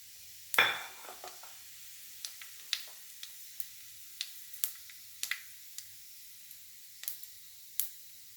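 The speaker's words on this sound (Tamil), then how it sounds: "சோம்பு பொரிஞ்சிச்சு." Fennel seeds hit hot oil with a sharp burst of sizzle, then keep spluttering in scattered crackles and pops that thin out over several seconds, close and fairly quiet.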